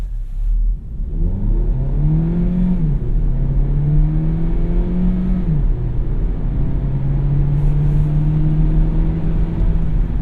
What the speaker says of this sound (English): So I floor it while holding the brakes and absolutely nothing happens.